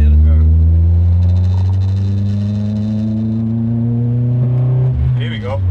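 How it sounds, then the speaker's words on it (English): A naturally aspirated Honda Accord drag car's engine revs under load, a loud rising and falling roar with clear harmonic tones close to the microphone, with people talking over it. "Let's put the engine under a bit more load."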